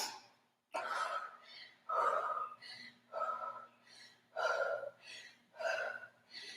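Heavy, rhythmic breathing after cardio intervals, a series of about eight loud, close gasping inhales and exhales with short pauses between them, over a faint low hum.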